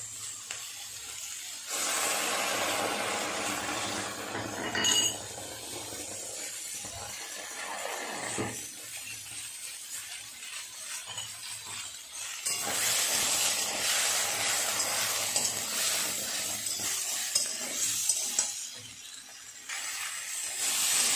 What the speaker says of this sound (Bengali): মশলাটা খুব সুন্দর কষানো হয়ে গেছে সবজির সাথে